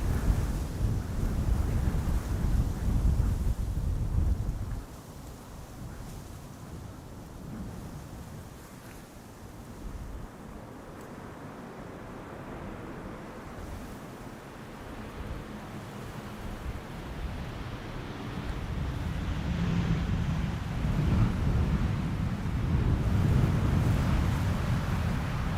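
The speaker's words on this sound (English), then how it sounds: "The wind is blowing pretty hard" Strong gusty wind at a Schiphol runway, roaring and buffeting the microphone; it eases for a stretch, then builds again, with a dull low rumble throughout and no talk.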